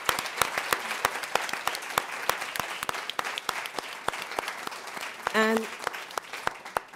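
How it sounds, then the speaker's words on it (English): Audience applause at a storytelling event, with dense, steady clapping throughout and a brief spoken word near the end over the clapping. "I think a big, big round of applause"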